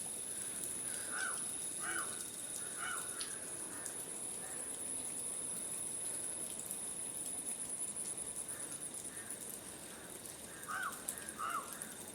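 Crows caw in short, repeated calls at a middle distance over a steady rural ambience of rain and insects, with brief quieter gaps between bursts and no speech.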